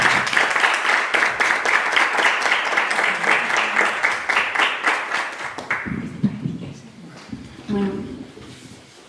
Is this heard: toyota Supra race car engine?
no